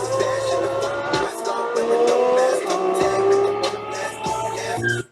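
A car racing a Nissan 350 with its engine revving hard through gear changes, loud and close, with brief tire squeal and a sharp cut at the end.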